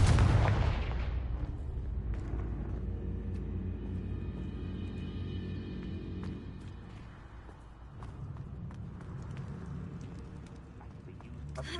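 Confringo spell blasts in the Hogwarts Legacy video game: a loud booming burst at the start that rolls off into a long rumbling tail, with faint game sounds and tones lingering beneath.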